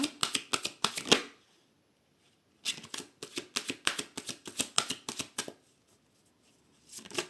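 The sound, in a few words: tarot cards being cut and shuffled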